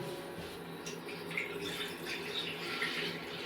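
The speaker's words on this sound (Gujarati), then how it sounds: "આપણે એમાં પેલા પાણી નાખી દઈ એટલે પાણી ગરમ થતું થાય" Water pouring and splashing from a vessel into a cooking pot to be heated for noodles, a steady running stream with faint clinks, no voices.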